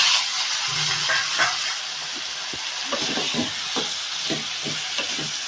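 Goat head meat dropped into a pan of sizzling onion and tomato masala gives a steady close hiss of frying, broken by several soft stirring and scraping knocks.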